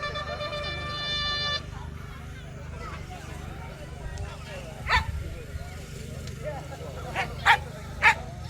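At an outdoor dog show arena, a few short dog barks and yips ring out against steady background noise, spaced apart and not very loud.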